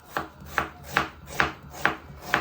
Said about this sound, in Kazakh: Енді лукымызды турап алайық.